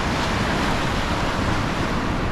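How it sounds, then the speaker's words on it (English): Rough sea surf crashes and roars continuously at Cairnbulg on the Scottish coast near the wreck of the Sovereign, loud dense wave wash with heavy wind buffeting the microphone throughout. "The sea's a lot rougher this morning"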